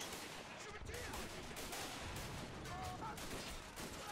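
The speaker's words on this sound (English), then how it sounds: "we have an MG on this side as well" Continuous gunfire in a WW1 game battle at Fort de Vaux during a French charge, with a machine gun rattling among dense, layered shots and distant artillery, steady and loud throughout.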